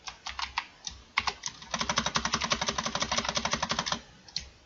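Rapid keyboard typing on a computer while a spreadsheet function is entered for a computer-skills exam exercise: close, crisp key clicks, sparse at first, then a dense, steady run of strokes, with no talking.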